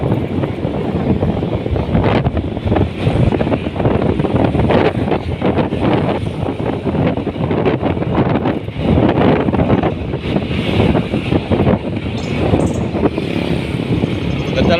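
Wind blows outdoors under sunshine, buffeting the microphone in a constant loud rumble with gusty swells throughout, and faint traffic or engine noise mixed in.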